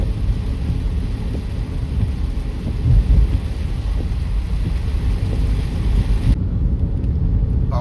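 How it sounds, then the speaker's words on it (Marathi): Steady rain falls loudly alongside deep thunder rumbles near a creek bridge, a continuous roar with a low swell around the middle. "पावसाची सुरुवात केलेली आहे, हळूहळू आता कमी झालेली आहे पाहू शकता."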